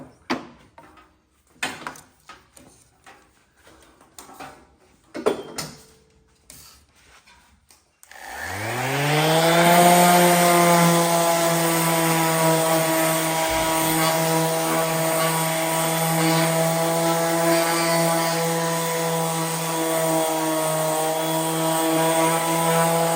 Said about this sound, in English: now we're going to do a little bit of sanding